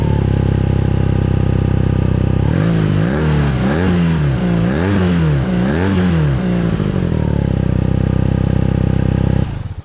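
BMW R12 nineT boxer twin and Triumph Speed Twin 1200 parallel twin motorcycle engines idling and being revved repeatedly, with several rising and falling blips in a steady loud rhythm, close up and with no talk.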